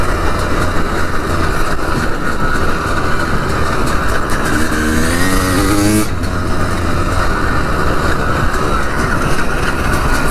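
A 2005 250CR enduro motorcycle engine drones steadily and loudly close by while riding, with a rising rev sweep near the middle before it settles back into a continuous roar.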